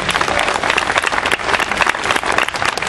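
Generous audience applause at a Paris welcome ceremony for the Flame of Truth, steady dense clapping filling the room for about three seconds with no voices over it.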